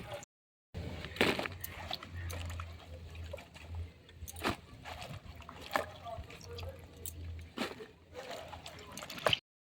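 Cut chola taro pieces being washed in water, with sloshing, splashing and trickling in irregular bursts alongside knocks against the bowl, close and fairly quiet.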